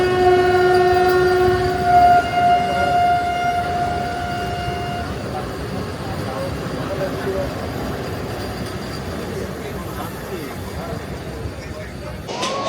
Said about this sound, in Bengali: আমাদের ট্রেন এসে পৌঁছেছে কিষানগঞ্জ স্টেশনে